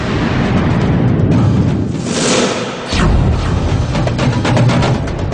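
Deep booming explosions from a mythological TV epic battle scene, loud rumbling blasts that roll continuously with a sharp burst near the middle, no talking.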